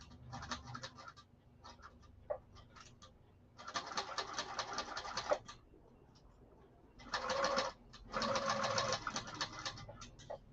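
A sewing machine runs in bursts of rapid, rattling basting stitches at its longest stitch length, with short pauses and fabric rustling between runs.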